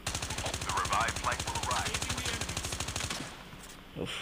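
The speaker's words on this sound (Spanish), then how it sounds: "Me disparan." Rapid automatic gunfire from Call of Duty Mobile, a steady rattling stream of evenly spaced shots for about three seconds that then stops, followed by a single later thump.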